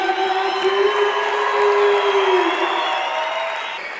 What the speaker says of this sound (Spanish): ¡Fuertes aplausos, Marcelino!